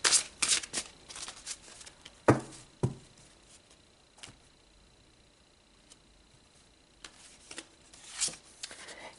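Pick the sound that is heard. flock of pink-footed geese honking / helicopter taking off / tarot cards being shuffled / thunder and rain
tarot cards being shuffled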